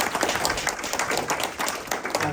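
An audience at a startup pitch event in Warsaw applauds, giving dense continuous clapping across the room with no voices.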